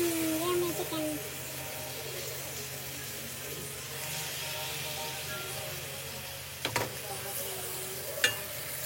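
Chicken fries for a curry in a pan, a soft steady sizzle with occasional stirring scrapes and clinks, while people talk over it.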